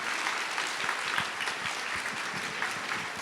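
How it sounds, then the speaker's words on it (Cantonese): An audience claps for the performers at the end of a school variety show, a dense, even round of applause sustained throughout at a moderate distance. "而家請大家再次將最熱烈嘅掌聲送俾所有優秀嘅表演者"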